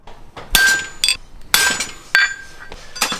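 A steel hammer strikes a stud punch set in a horseshoe at a farrier's bench, giving five sharp metallic blows with ringing clinks, spaced about half a second apart, close and loud with no talk.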